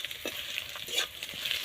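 Onions fry in a pan for a Rajbanshi home-cooked dish, giving a close, steady sizzle with light stirring scrapes throughout.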